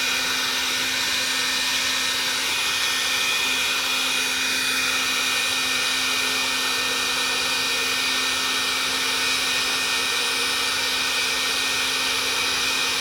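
A heat gun blows a steady, loud, hissing airflow while warming a hose to expand it, continuous and unbroken throughout, with no talking.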